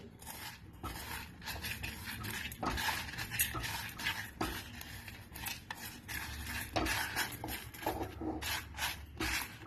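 Dried red chillies stir-fried in a pan for a vegetable curry, with repeated scraping and stirring strokes against the metal over a soft, fairly quiet sizzle, close and without speech.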